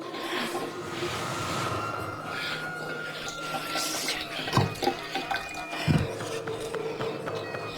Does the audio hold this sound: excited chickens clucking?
no